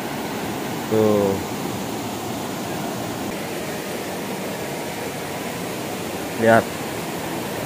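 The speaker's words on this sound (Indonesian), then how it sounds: "irigasinya tuh di dam seperti ini biar mengalirkan ke pinggir-pinggir rumah ini" Water rushes steadily through a village irrigation dam and river, a continuous broadband roar that fills the scene, with a person briefly speaking twice over it.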